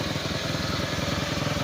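A Kawasaki Bajaj CT100 motorcycle that stalls while riding idles steadily after being started, with a close, continuous low putter running alone throughout.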